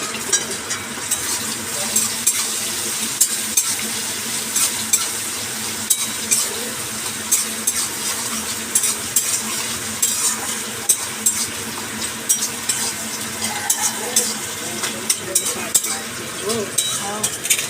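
Goat fat sizzles with salt in a pan, giving a steady close frying hiss punctuated by frequent small clinks and scrapes of a utensil stirring.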